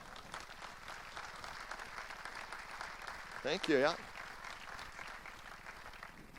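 Audience applause at a ministry keynote address, a steady, fairly faint wash of clapping from a crowd, with someone briefly speaking over it midway.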